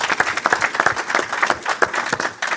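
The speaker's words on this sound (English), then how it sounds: "I want to have one more round of applause for our big-hearted panel." An expo audience gives a round of applause for a panel, dense steady clapping from many hands at close range that fills the whole stretch.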